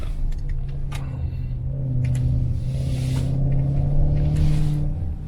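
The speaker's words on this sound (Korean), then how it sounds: "뒷좌석에서 전달해지는 그런 배기음도 굉장히 좋네요" Inside a Maserati Levante GTS on a winding road, the exhaust carries into the rear seat as a steady deep rumble that swells gently, with a few light ticks and knocks in the cabin.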